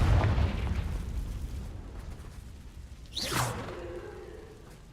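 A Confringo fire spell in the Hogwarts Legacy video game, a single whooshing burst that sweeps upward into a short explosive boom, following a low rumbling start, with no talk.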